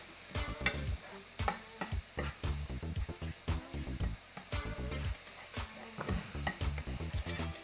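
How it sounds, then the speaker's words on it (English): Ground meat and onion brown in a hot pan for spicy taco cups, with a constant sizzle and rhythmic spoon strikes and scrapes as the meat is broken up and stirred. "We just want to get this meat and the onion combined and break that meat up as you go"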